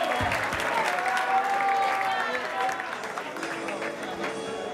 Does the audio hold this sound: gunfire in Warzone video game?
no